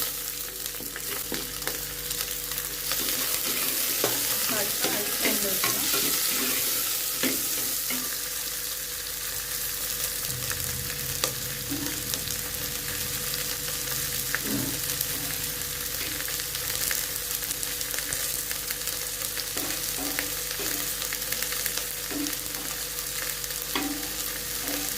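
Onions sizzling and frying in hot oil in a pan with curry leaves and garlic for prawn gravy, a steady close crackle throughout with occasional stirring scrapes and no voices.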